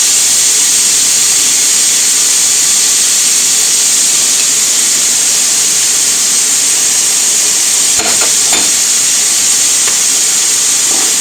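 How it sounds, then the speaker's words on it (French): Onion and lardons sizzle steadily in a frying pan, a constant loud hiss of frying with a few brief clinks of stirring near the end. "faire dorer tout ça ensemble jusqu'à ce que l'oignon soit cuit et les lardons bien revenus"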